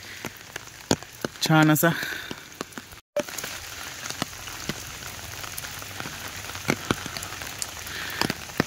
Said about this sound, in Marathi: म्हणजे दुपारपासूनच आज पावसानं मस्तच बॅटिंग सुरू केली